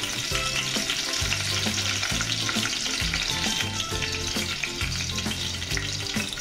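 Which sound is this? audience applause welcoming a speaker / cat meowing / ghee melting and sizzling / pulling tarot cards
ghee melting and sizzling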